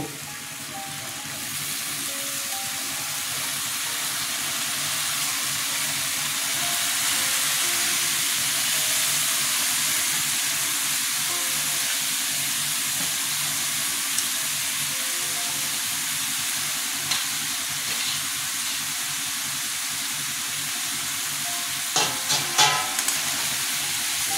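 Pumpkin sizzling in a hot pan with dried chilli powder, a broad steady hiss that swells gently and holds for the whole stretch, with a few faint clinks near the end.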